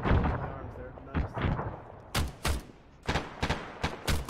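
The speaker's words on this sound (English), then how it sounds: "We're taking mortar fire" Mortar rounds landing in the ARMA military game during a Cold War era mission, several sharp booming blasts in quick succession, some near and loud, others more muffled, with brief lulls in between.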